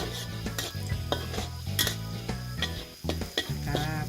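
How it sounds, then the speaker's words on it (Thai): Garlic being stir-fried in a pan, with repeated scraping and clinking of a utensil against the pan over a light sizzle, close and fairly loud. "เราก็จะใส่กระเทียม แล้วก็ผัดกระเทียมให้หอมก่อนนะคะ"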